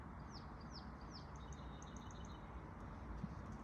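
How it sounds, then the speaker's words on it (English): Faint bird chirps come in a short quick run of three swooping calls followed by softer rapid tweets, distant over a low steady rumble. "The birds are chirping."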